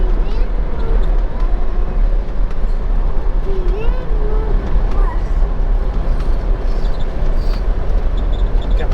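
A 1965 Ford Mustang driving fast along a Dutch country road, heard from inside as a loud, steady engine and road roar with wind rumble, people talking over it throughout.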